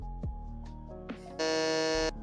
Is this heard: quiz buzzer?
yes